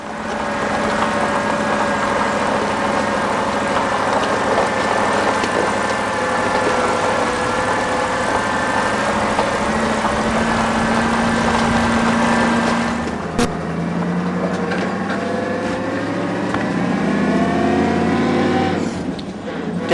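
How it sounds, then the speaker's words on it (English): A Ford 460 V8 truck engine with glass pack exhaust running from the headers back, a loud steady drone with a rumbling low tone throughout, shifting pitch about two-thirds in, with someone talking over it. "I put a set of glass packs from the headers on back over the course of the winter, and yeah, it sounds pretty neat"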